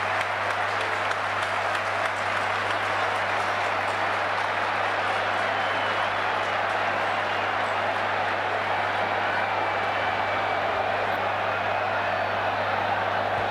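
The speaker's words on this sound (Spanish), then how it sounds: "Los argentinos que aplauden." A large Argentine stadium crowd applauds steadily and loudly at a 1994 World Cup qualifier against Colombia, a dense continuous clapping wash with a constant low hum beneath.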